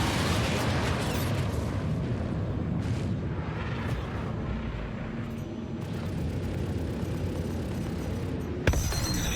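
Size 2 missiles striking a Freelancer ship in Star Citizen, heard as a continuous loud rumbling roar of blasts and debris with a sharp burst near the end.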